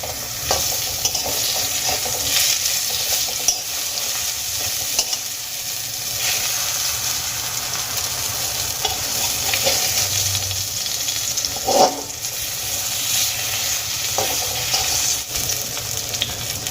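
Eggplant pieces frying in oil in a wok give a steady, close sizzle with occasional stirring scrapes and brief pops, continuing without talk.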